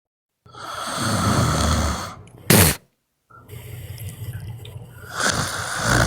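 A voice imitates loud snoring, with long rasping breaths, a sharp snort in the middle, then more throaty snore sounds.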